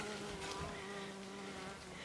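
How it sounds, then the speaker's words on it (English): A steady, close buzzing of honey bees, continuous and droning throughout the short stretch, with no voices. "There's a bee under there"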